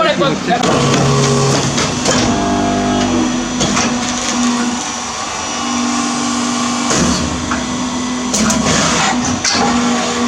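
Fully automatic high-speed fly ash brick making machine with stacker, punching bricks in single strokes: continuous loud mechanical whirring and hum with repeated clanking and thumping pulses throughout, voices speaking over the machinery.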